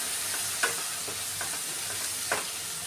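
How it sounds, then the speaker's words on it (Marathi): A spoon stirs a tomato bhaji mixture with salt in a frying pan, giving soft, faint sizzling under a few scattered scraping taps against the pan. "हे सर्व आता मिक्स करून घेऊया"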